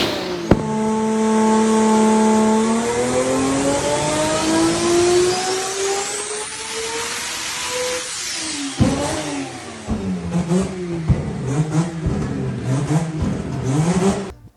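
A Pro Mod race car with an RB engine screams loudly on a dyno, its pitch climbing steadily through a long pull, then dropping and sputtering with crackles and uneven bursts as it comes off power, with no voices.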